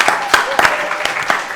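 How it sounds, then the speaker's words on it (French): An audience applauds the mayor at a club event in St Just, with irregular, fairly sparse claps, close and loud, over a short stretch of crowd murmur. "On l'applaudit s'il vous plaît, Monsieur le maire."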